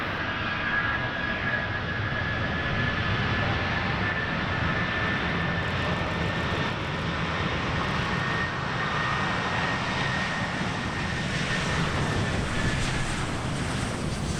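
Honeywell's Boeing 757-200 flying engine test bed roars down the runway on takeoff at an airshow, a loud sustained jet rumble with a thin high whine riding over it, steady and continuous throughout.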